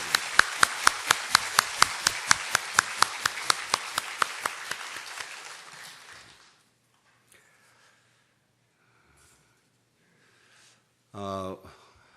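A church congregation claps in celebration, loud and fast with sharp, evenly spaced claps standing out, for about six seconds before it stops abruptly. After a pause, someone briefly speaks.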